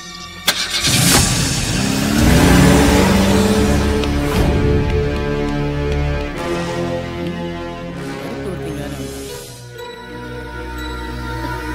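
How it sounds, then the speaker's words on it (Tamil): A car engine starts and revs up as the vehicle pulls away, loud and close at first, then settling into a steadier running hum, with scattered background clatter and no speech. "டிரைவர், வண்டி எடு."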